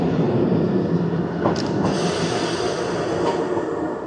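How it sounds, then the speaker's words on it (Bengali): A small two-car local train at Kurumazaki Jinja station in Kyoto, a steady loud rolling rumble with brief high wheel squeals and clicks as it runs through, heard close by without talk. "এই ট্রেনটা আমরা ধরবো"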